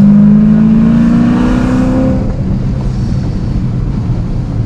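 A 750 hp Corvette accelerating hard on a race track, its engine note rising loud and close from inside the car, then easing into a steady roar with wind noise.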